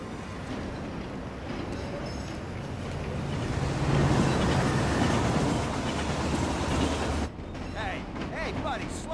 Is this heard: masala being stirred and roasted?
no